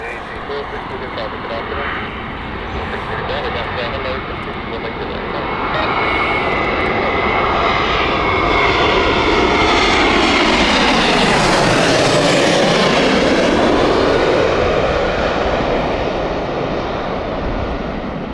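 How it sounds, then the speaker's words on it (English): A Wizz Air UK jet arrives at Gatwick Airport, its engine roar loud and steady, swelling and sweeping in pitch as it passes close by, then holding strong to the end. "This is the Cantina flight from Whiz UK, just on its way in right now."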